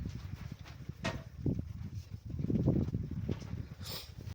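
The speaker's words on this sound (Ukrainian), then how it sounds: "Коней я вивела" Horses led out of their stable, their hooves clip-clopping in an uneven series of close thuds over a steady outdoor background.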